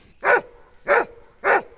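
A rural working dog near Whariama in the Waipara barks three times, with sharp, evenly spaced barks about half a second apart, close and alone.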